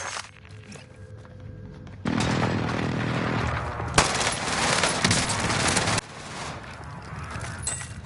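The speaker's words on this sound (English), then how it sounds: "Bringing down an airstrike." Airstrike run firing in a video game, a sustained roaring burst of rapid gunfire that starts abruptly, carries a sharp crack in the middle and cuts off, loud and dense throughout.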